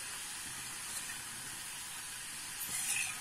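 Chopped onion mixture for onion uttapam heating in a pan, giving a steady, bright sizzling hiss that holds evenly for a few seconds with a slight swell near the end.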